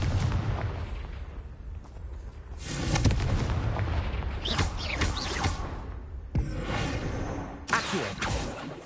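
Confringo fire spells explode one after another in the Hogwarts Legacy video game, loud booming blasts with whooshing bursts and crackling debris, repeating in heavy waves.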